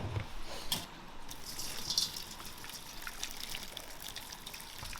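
A kitchen tap runs steadily while vegetables, tripe and aorta are rinsed in a sink, a continuous splashing gush with small drips, close and alone.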